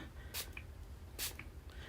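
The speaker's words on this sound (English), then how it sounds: "I'm just spraying it to see how the things are going to move." Two short hissing bursts from a spray bottle misting water onto an ink painting, evenly spaced and close by in a quiet room.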